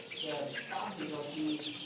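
Sonali chicks, 26 days old, cluck softly several times in short, uneven bursts, fairly close but quiet.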